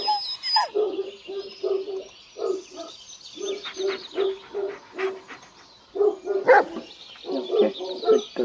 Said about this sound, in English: Okay, good dog.